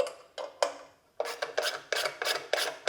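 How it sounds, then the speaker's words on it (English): Guards being pulled off a bench grinder, heard as a series of short scraping, rasping metal-on-metal strokes, close and fairly quiet, in a quick uneven rhythm without speech. "First thing we'll need to do is pull the guards off the machine."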